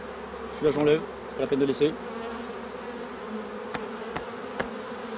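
Honeybees hum steadily around an opened beehive, a close continuous buzz, while someone speaks briefly over it and a few sharp clicks follow.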